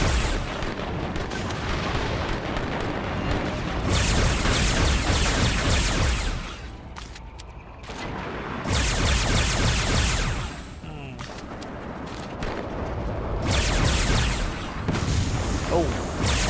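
Heavy cannon fire and explosions in the video game Eternal Crusade boom loudly in repeated long bursts, separated by short quieter gaps, with players talking over the battle.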